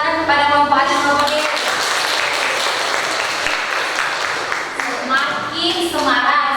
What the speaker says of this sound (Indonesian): beri tepuk tangan kepada kelompok A dan kelompok D